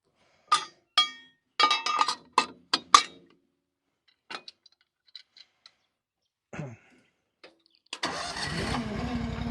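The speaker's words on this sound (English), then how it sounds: "Honda always starts up so beautifully." A Honda engine is cranked with several short sharp pulls and clatters, then quiet with a few faint clicks, before it catches and settles into a steady running drone at the end.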